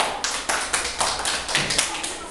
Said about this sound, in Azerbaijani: Ucadan alqışlamaq lazımdır.